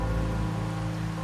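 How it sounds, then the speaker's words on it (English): Steady rain falls in a video game, a dense, even hiss of drops on surfaces under a low background drone, with no voices. "The rain's back."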